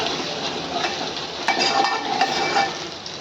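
Crushed garlic and green chilli paste fries in a pot for buttermilk kadhi, giving a soft sizzle with a spoon scraping and clinking against the metal. The sound is close and brief.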